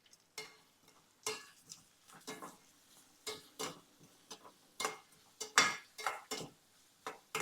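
Onions sauté in a pan, stirred in bursts of scraping and sizzle with repeated utensil taps against the metal, fairly close and quiet, without talk.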